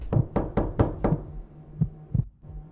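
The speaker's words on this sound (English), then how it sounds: "A knock at the door, but no one was there." Seven or so heavy knocks on a door thud in an uneven rhythm, loud and near, followed by a quiet pause, as a horror story sound effect.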